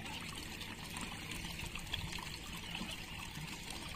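Hot spring water flows at Vachhraj Bet in the Little Rann of Kutch, a steady trickling, pouring wash of water heard up close and continuous, with no talking.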